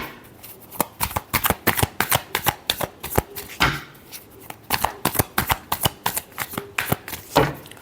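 Tarot cards are shuffled by hand close to the microphone, giving quick rapid riffling bursts and crisp slaps. The shuffling continues in an irregular rhythm, with a short lull partway through.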